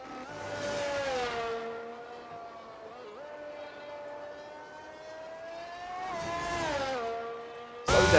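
Formula 1 engine of a Williams car in a racing video game, a steady high-pitched whine that climbs through gears and swells as it passes on the long back straight of the Japanese Grand Prix circuit near 130R, with a sharp burst at the end.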